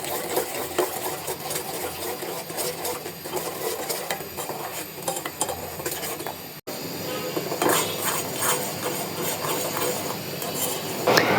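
Sugar caramel cooking in a pan on the stove is stirred constantly, giving a busy run of scraping, clinking utensil-on-metal sounds with a bubbling hiss underneath, fairly close and continuous throughout.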